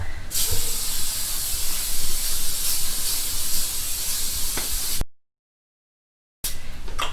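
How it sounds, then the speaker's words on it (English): A loud, steady hiss of disinfectant spray in a medical office runs for about five seconds, then cuts to silence before a brief burst of hiss returns. "With the disinfectant spray as well."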